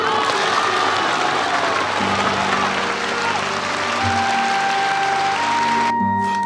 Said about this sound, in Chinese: 那就鼓掌吧。